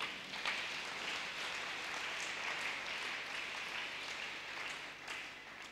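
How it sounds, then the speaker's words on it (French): A church congregation at a Sunday service applauds steadily for several seconds, a dense, even patter of many hands clapping at moderate distance, sustained without pause before tapering slightly at the end, with no voices rising above it. "Pouvons-nous acclamer la parole de Dieu?"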